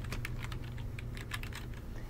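Soft, quick keystrokes on a computer keyboard while renaming tables in an Excel 2016 spreadsheet, an irregular patter of clicks heard faintly up close over a low room hum.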